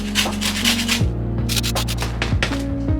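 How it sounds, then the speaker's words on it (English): A lemon is zested over cake batter, giving close, quick rasping scrapes in irregular strokes against steady background music. "So I'm gonna zest a little bit of lemon into this as well."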